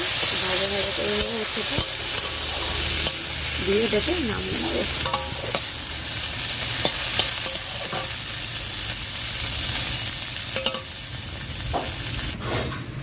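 Cut vegetables for a bottle gourd shukto fry in hot oil in a kadai, a loud continuous sizzle broken by repeated scraping and clacking stirs of a spatula, with a voice speaking briefly early on.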